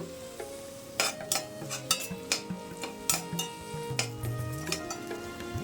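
Onions sautéing in a pan with green chillies, stirred with a metal spoon that clinks and scrapes in a steady rhythm over a continuous close sizzle, no talking.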